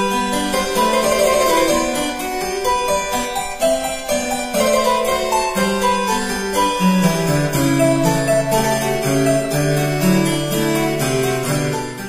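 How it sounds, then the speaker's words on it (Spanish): A clavichord-like keyboard string instrument plays a Baroque-style passage alone, a bright run of plucked metallic notes in quick melodic succession, clear and close with no voices. "viene otro instrumento como el clavicordio"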